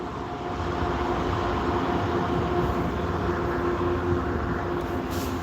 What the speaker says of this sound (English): There goes the train. The train makes a lot of noise.